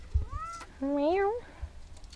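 Kosa, a pet cat in a backyard, gives two close meows, a short one followed by a longer, rising-and-falling one, with soft background noise.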